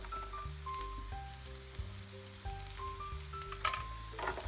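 Sliced onions sizzle steadily in a hot pan for tuna pasta, a constant low frying hiss with faint utensil clinks, while soft background music plays throughout.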